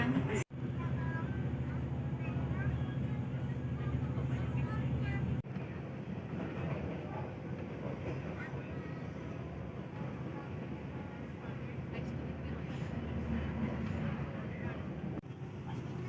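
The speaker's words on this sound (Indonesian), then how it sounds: "Saat ini KA Arjonegoro melewati samping dari stasiun Surabaya Kota dan akan menuju ke stasiun Surabaya Pasar Turi" The Arjonegoro passenger train runs past Surabaya Kota station toward Pasar Turi, heard from on board as a steady rumble of wheels and carriage noise, with a few sharp clunks and voices talking.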